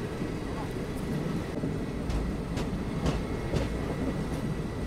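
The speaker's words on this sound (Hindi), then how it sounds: "जौनपुर सिटी रेलवे स्टेशन के प्लेटफॉर्म नंबर 1 पे अपना अराइवल हो रहा है।" Train pulling into platform 1 at Jaunpur City railway station, a steady rumbling roar with rhythmic wheel clicks, continuous and close with no break.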